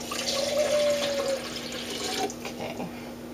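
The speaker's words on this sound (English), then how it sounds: "I'm going to pour that into the blender." Liquid pours into a blender jar in a kitchen, a short splashing stream for a few seconds over a steady background hum.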